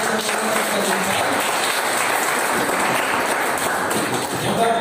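Church congregation at a Sambahayan Ni Kristo Christian service applauding the victorious, a dense, loud, continuous burst of clapping with no talk over it.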